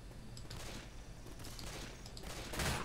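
Burst of gunfire in the zombie shooter Left 4 Dead 2, a steady low rattle of shots running under faint background noise and swelling louder near the end.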